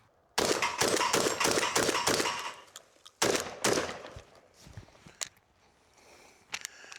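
Benelli M4 EXT semi-automatic shotgun fired rapidly through a full tube of shells: two loud bursts of close, sharp blasts in quick succession, separated by a short pause, then scattered clinks and handling noises as the reports die away.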